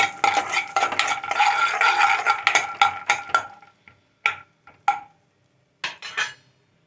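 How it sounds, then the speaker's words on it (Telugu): Peanuts dropped into oil and stirred in a pan for ridge gourd curry, with rapid scraping and clattering of a spoon against metal that thins into a few sparse taps and scrapes. "ఇలా ఆయిల్ పెట్టుకొని ఫస్ట్ మనం వేరుశనగ గుళ్ళు వేసేయాలి"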